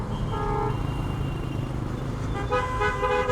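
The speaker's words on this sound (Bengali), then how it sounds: "ম্যাক্সিমাম মানুষে হর্ন ইউজ করে এখানে" Car horns honk on the busy Airport flyover in traffic, with one toot near the start and several overlapping honks near the end over a constant rumble of road noise.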